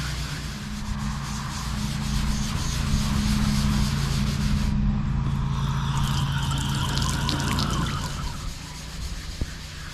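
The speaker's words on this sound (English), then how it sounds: "the SOS pad is taking some more of that surface rust off" An SOS pad scrubs surface rust off metal in a steady, continuous abrasive rubbing, close and fairly loud, without pauses, under a constant low hum.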